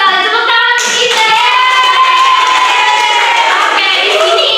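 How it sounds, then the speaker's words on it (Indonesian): A classroom group claps together during a science teaching session, a brief loud burst of hands with children's voices and cheering mixed in over the top. "Tepuk tangan untuk kita."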